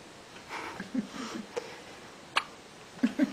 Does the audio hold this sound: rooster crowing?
no